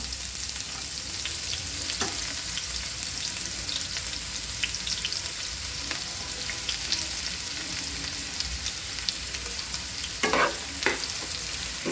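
Finely chopped onion sautéing in a pan for a chana bhaji, producing a steady close sizzle and fry with occasional louder stirring scrapes and clatters toward the end; no voices.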